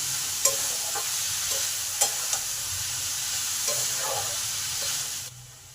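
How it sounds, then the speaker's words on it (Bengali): Beetroot and carrot fry in a pan with salt and turmeric while a spatula stirs them: a soft steady sizzle broken by several sharp scraping clicks, ending abruptly near the close. "নুন আর হলুদটাকে ভালো করে বিট গাজরের সঙ্গে মিশিয়ে দিলাম"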